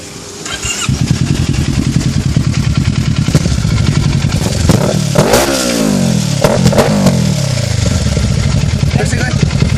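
A Kawasaki Ninja 650 fitted with an IXIL aftermarket exhaust starts up and idles loudly up close, then revs sharply a couple of times with rising and falling engine pitch, while people talk nearby.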